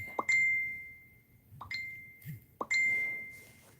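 A phone notification chimes three times, each a bright ding that rings out and fades, at a steady spacing of a bit over a second, heard close with no talking.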